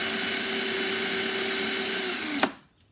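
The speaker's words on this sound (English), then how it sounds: "I take 600 grit sandpaper, you chuck it in a drill" A drill spins 600 grit sandpaper in a steady, loud whirring whine, ending abruptly with a short clatter and quiet.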